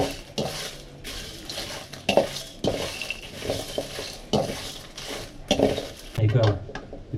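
Byadgi chillies and fennel seeds are dry-roasted in a pan for a North Karnataka chicken dish. A spatula scrapes and knocks against the metal pan in repeated strokes.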